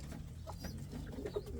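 An Indian fantail pigeon coos softly in short, low murmuring notes, heard faintly and close by against a quiet background.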